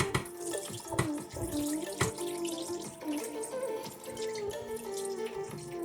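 Tap water running into a sink while rice or beans are washed, a quiet, continuous splashing stream with sharp clinks and knocks of grains and a pot mixed in.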